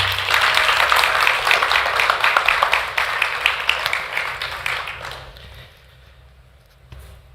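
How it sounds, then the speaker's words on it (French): A church congregation gives warm, sustained applause, loud and even at first, then thinning and fading out into near silence. "on peut l'applaudir"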